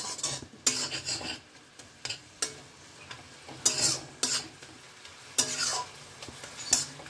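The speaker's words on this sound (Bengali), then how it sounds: "এই সব কিছু একসাথে ভালো করে মিশিয়ে নেব।" Mustard greens with a little sugar and two green chillies are stirred in a hot pan, giving repeated scraping and clinking strokes of a spatula over a soft sizzle, close up with no voices.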